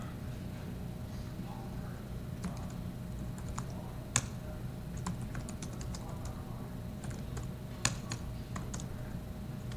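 Steady, quiet keystrokes on a computer keyboard while code is written, with soft irregular clicks and a few sharper taps over a constant room hum.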